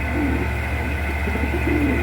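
Large pigeons coo in a low, steady murmur close by, with a constant background hum under the calls and no talking.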